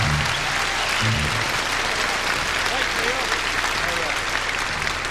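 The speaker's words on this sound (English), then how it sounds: "Give him a nice round of applause." A country music audience applauds for a singer with dense, steady clapping throughout, with a faint low musical tone beneath the crowd.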